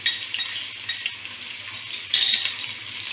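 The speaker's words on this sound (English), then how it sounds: "Just now 1 minute of sauteing is enough." Chopped cucumber sautés over a medium flame in a pan with red chili flakes, giving a steady soft sizzle with light stirring and scattered utensil clinks, close by and without talk.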